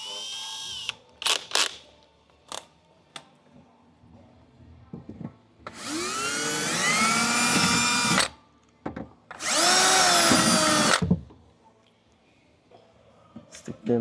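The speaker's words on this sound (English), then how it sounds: "just to make sure that the bracket doesn't move while I'm drilling it for the rivet" A power drill with a 3/16-inch bit whirs through a metal car wing bracket for a rivet in two sustained bursts of a few seconds each, close by, separated by brief clicks and handling noises.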